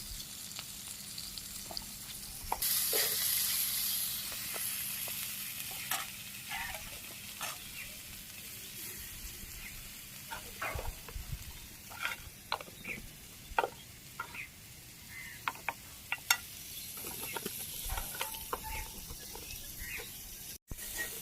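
Spices being sautéed and stirred in a pan for an egg-potato curry with salt, turmeric and dried chilli powder in a Bangladeshi village kitchen. A steady close sizzle carries repeated scraping and clacking stirring strokes throughout, with no voices.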